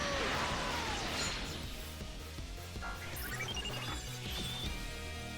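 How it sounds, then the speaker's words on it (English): A loud glass-shattering crash with flying debris opens amid dense video game noise, followed by scattered smaller cracks and clinks. "like the glass shattering effect they have on it"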